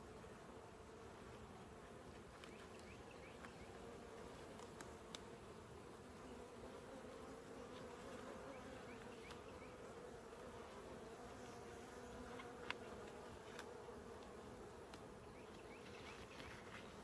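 Honey bees from an open hive, checked during a mite treatment, hum in a faint, steady buzz that holds for the whole stretch with no talk over it.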